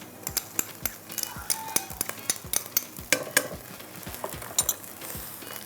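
Ginger and garlic stirred into frying onions in a pan for lal masoor dal, with quiet sizzling under repeated scraping and clinking of a spoon against the pan.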